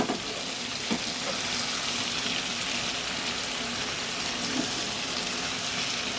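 Chicken chap pieces frying on a high flame, a dense, steady hiss and crackle of hot oil filling the whole stretch, with a couple of faint clicks and no talk.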